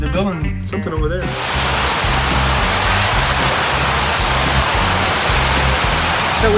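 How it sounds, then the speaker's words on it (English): Rainwater gushes steadily out of a drain or spout beside a building, a loud, dense, continuous rush of splashing water heard close up, with a brief stretch of speech at the start. "It was pouring down rain a while ago. As you can see, the water gushing out there."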